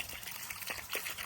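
Water sprays and trickles onto pepper plants in a garden, a soft steady hiss with brief splashy bursts, fairly quiet and continuous.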